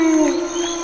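Short, sustained jackal howl with a slightly falling pitch, heard on its own and fairly clear, used as an effect in a narrated Bengali story.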